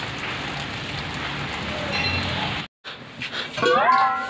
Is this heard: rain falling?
yes